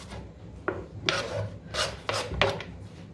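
A knife cuts through spinach leaves on a board in a home kitchen, five or six crisp, rasping strokes at an uneven pace, close and fairly soft, with no talk.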